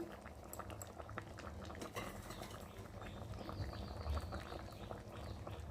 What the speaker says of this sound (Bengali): এবার একটু ঢাকা দিয়ে ফুটিয়ে নেব।